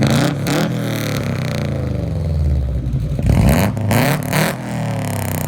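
A Subaru boxer engine revs repeatedly with an uneven, rumbling burble, loud and close, pitch swelling and dropping across several blips.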